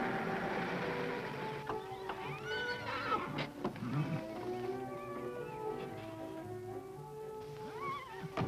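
A horse on an open range neighs and whinnies in rising and falling calls over a steady background, with some hoof clip-clop, fairly near and clear, no talking.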